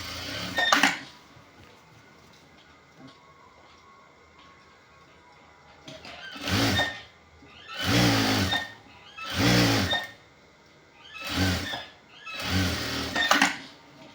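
A sewing machine stitches pant side pocket cloth in several short bursts, each a second or so long, separated by pauses, close up and moderately loud, with no talking.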